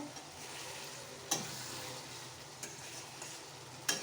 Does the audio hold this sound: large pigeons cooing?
no